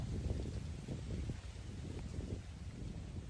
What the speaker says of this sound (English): But it's real windy